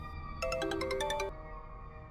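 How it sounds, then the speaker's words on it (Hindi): A phone ringtone chimes in a quick run of bright, repeating electronic tones, loud and close, lasting about a second before fading into room hush with no talk. "सुबह सुबह इस बुड्ढे का फोन आ गया।"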